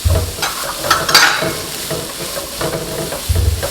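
Diced carrots and garden peas sizzle in a pan for coconut shrimp fried rice while a spoon stirs and scrapes through them in a few quick strokes, with steady frying hiss underneath.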